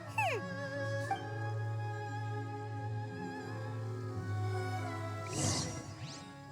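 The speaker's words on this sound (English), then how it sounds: "I think this is where the dog lives. So let's go see the dog." A dog in Genshin Impact whimpers and gives high yips over a steady, tonal game-music drone, with a brief burst of higher cries near the end.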